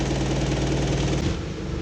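A Pajero's starter cranks with a steady rapid churning, then the engine catches and settles into an idle near the end, loud and close.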